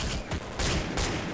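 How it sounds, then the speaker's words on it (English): Dense bursts of gunfire strike the player in a first-person shooter game, sounding as rapid, loud, continuous volleys that surge in waves with no talk over them. "I'm getting shot."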